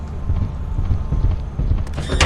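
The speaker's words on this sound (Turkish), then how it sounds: "Bu ayak sesi." Footsteps thud steadily underfoot in a dense, muffled rhythm at close range. They end in a brief clatter.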